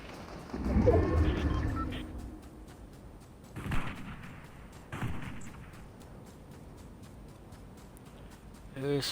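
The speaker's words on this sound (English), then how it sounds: "Who's firing for this direction?" Gunshots ring out in Fortnite played on an Xbox One X: a loud booming blast, then several fainter distant shots spaced seconds apart, and a final sharp report.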